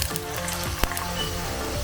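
Onion frying with cumin seeds in a pan, a loud, dense, continuous sizzle and crackle close up, with a single sharp utensil tap partway through.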